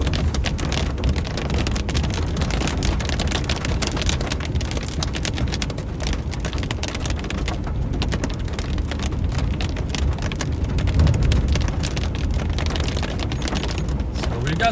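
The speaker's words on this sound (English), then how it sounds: "got some small hail falling here, nothing crazy though." Small pea-sized hail and rain falling steadily during a thunderstorm in Arkansas, a dense continuous patter on surfaces with some wind noise, fairly loud and unbroken throughout.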